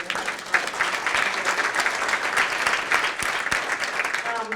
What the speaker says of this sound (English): So I just want to give a special round of applause